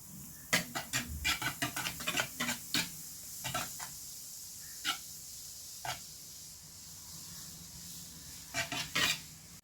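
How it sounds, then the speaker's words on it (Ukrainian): Spoon stirring kefir and baking soda in a bowl, giving a run of quick scraping clinks that thins out into sparse taps, fairly close and without talk. "Змішую кефір та соду і ретельно перемішую."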